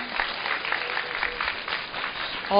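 A student audience at a school talk-concert event claps together in a continuous, even patter of applause that holds steady throughout and swells slightly at the very end.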